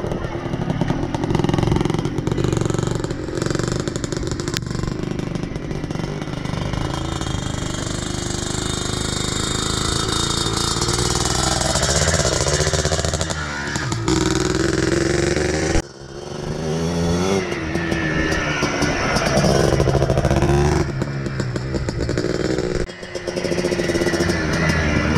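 A 200cc Yamaha Blaster quad being ridden, its two-stroke engine buzzing and revving hard nearly all the way through, rising and falling with gear changes, loud and close, with a brief dip partway.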